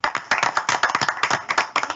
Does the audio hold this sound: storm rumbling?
no